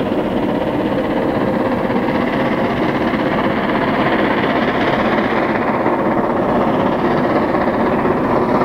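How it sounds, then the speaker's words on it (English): A steam train on an excursion run rounds a curve at Pokeno, heard as a continuous loud rumble and rolling clatter at steady volume, with no voices. "The train now on its return trip, rounding the curve at Pokeno."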